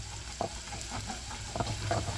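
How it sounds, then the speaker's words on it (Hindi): Chopped ginger and garlic sizzle in hot oil for a dal tadka, a steady close frying crackle with stirring scrapes and soft clinks over it, and no talking. "ये देखें कि तड़का हमारा गोल्डन ब्राउन हो गया है।"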